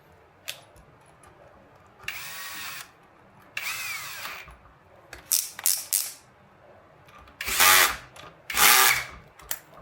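A cordless power drill or driver tightens parts on a Floatwheel electric board in several short bursts of whirring, close by, separated by brief pauses and small clicks of handling.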